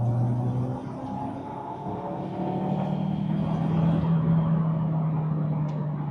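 A Saab 9-3 engine with misfires, especially on cylinder 3, pulling hard through third gear: a steady, fairly loud drone that climbs in pitch as the car accelerates, heard from inside with no talk.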